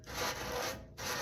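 A brush scrubs rust converter onto a rusty metal toolbox, giving a steady close-up rubbing and scratching sound with one short pause before the strokes resume.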